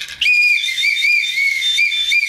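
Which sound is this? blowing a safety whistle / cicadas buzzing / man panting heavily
blowing a safety whistle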